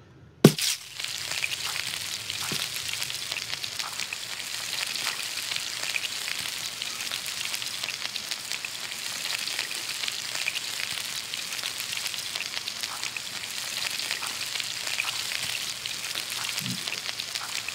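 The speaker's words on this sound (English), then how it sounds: "Now I need to cook the fish." Fish frying in a pan in the Toca Kitchen 2 cooking game, a steady hissing sizzle that starts with a click and runs unbroken, close and alone.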